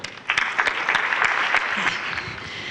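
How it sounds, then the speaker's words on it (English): Audience applause at a Thai education philanthropy conference, a dense, steady crowd clapping that fills the room from start to finish without voices. "Please give them all a round of applause."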